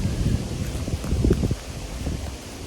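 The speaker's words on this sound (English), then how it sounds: "The wind's picking up" Gusty wind rushes and buffets the microphone on the Appalachian Trail, a steady low roar with rumbling swells that eases slightly toward the end, no voices present.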